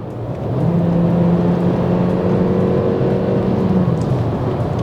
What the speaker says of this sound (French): quand on va mettre pied au plancher, là on va entendre un petit peu plus le moteur à essence